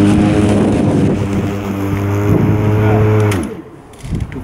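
A Greenworks cordless electric lawn mower runs steadily with a droning hum and stacked whine tones, then winds down near the end; wind buffets the microphone throughout.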